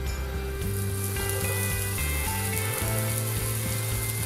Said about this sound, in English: So we're going to let it fry a little bit.